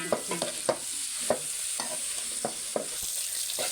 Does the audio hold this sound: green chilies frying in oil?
yes